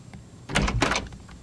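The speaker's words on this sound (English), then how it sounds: "I wonder whom that can be knocking upon my door." Knocking on a door in a Sesame Street scene with Kermit the Frog: a tight cluster of several firm knocks in quick succession, close and fairly loud, with no talking over them.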